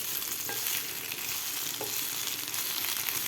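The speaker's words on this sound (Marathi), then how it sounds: "भेंडी व्यवस्थित आपण हलवून घेतलेला आहे" Stuffed okra fries in a covered pan as it is stirred, a steady close sizzle with a couple of soft scraping stirs, no talk.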